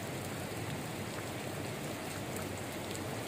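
Heavy rain pours down at a camp in a steady, dense hiss that never lets up, loud and close with no voices over it.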